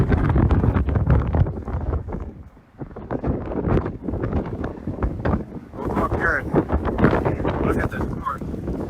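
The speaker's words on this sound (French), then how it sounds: "j'espère que le vent ne souffle pas trop fort pour que vous puissiez m'entendre" Gusty wind buffets the microphone outdoors, a steady roaring rush broken by a brief lull, with someone talking over it.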